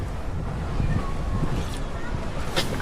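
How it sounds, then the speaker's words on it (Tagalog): Rough, blustery wind buffeting the microphone over churning sea with strong waves, a constant low roar with brief louder gusts. "Medyo malakas ang alon eh."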